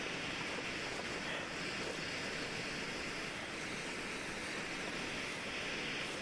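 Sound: river water flowing, from video game The Long Dark

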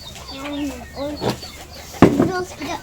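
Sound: chickens

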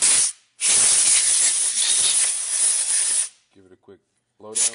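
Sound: compressed air blowing down a part

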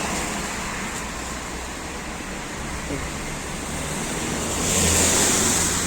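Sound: car traffic noise

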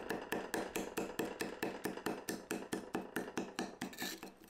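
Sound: paint scraper chopping leaves

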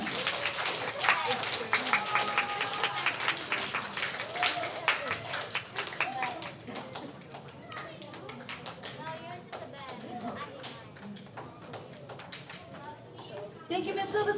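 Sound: applause from school awards audience

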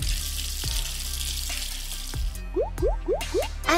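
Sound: shower water running in a video game

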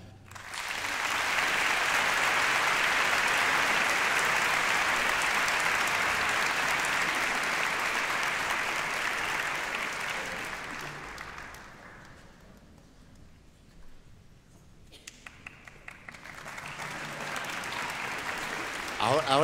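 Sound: audience applause in concert auditorium

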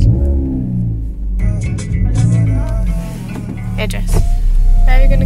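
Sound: car interior while driving to the shops

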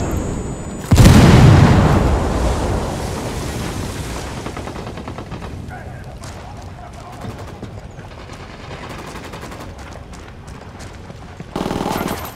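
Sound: frag grenade explosion and gunfire in video game Ghost Recon Wildlands

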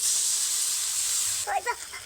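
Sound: water poured into hot wok, hissing steam

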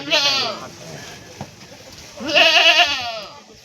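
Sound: goat bleating at a livestock market

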